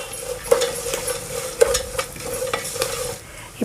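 Cumin, turmeric and salt being stirred in a pan for a poha mixture snack, with repeated scraping strokes of a spoon against metal over a light background sizzle, close and rhythmic.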